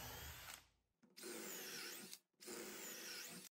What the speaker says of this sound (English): M25 Forstner bit could be gone all the way if not shavings clogged up the bit.